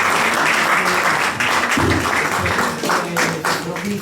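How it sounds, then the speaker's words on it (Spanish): Applause from an audience at a wine tasting of Bodegas Díez del Corral Rioja wines, a steady crowd clapping that runs the full length, loud and close, with a little talk mixed in. "Un aplauso."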